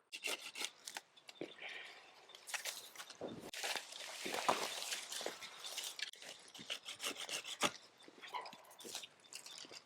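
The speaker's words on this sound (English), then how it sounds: "I'll probably cut these two branches off here" Apricot or peach tree branches being cut with a hand saw in a permaculture food forest, heard as irregular rasping strokes with rustling and a dog nearby, fairly faint and close.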